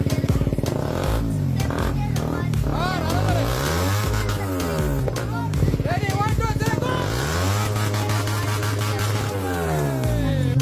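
A modified Suzuki GSX-R motorcycle fitted with an R1-series exhaust revs up close and loud in repeated rising and falling bursts, its engine note swooping up and down, with people talking under it.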